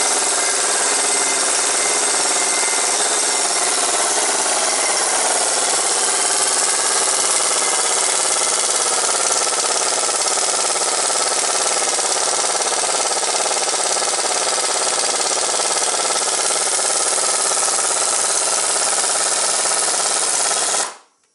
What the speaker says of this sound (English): Let's crack it with the impact. It's gonna be loud